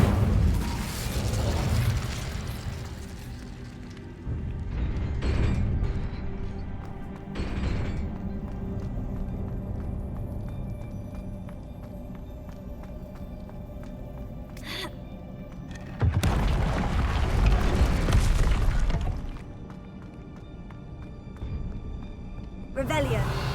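The Incendio fire spell is cast in the Hogwarts Legacy video game, with loud bursts of fiery whooshing and booming at the start, mid-clip and again near the end, over quieter mechanical game sounds and background music.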